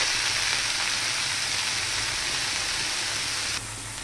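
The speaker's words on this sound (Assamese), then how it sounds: "মই এতিয়া শাক ভাজি দিম" A leafy green saag fries in a pan as a dense, even sizzle close up, staying loud and steady before dropping slightly near the end.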